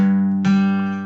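A guitar sounds a G octave, two notes ringing together, the second string picked just after the first and both sustaining cleanly and fairly loud before fading, with no talking.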